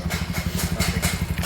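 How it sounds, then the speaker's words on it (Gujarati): A motorcycle engine idles at a garage during a check, with quick, even chugging firing pulses, close and steady. "અમારા અજમલભાઈ આજે બાઇક એમનું ચેક કરવા આવ્યા છે. એમનું ફાયરિંગ જોઈ રહ્યા છે અજમલભાઈ રાતના."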